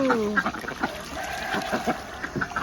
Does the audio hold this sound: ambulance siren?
no